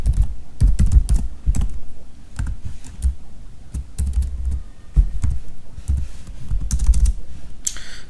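CSS code is typed on a computer keyboard in quick, uneven bursts of close, loud key clicks separated by short pauses.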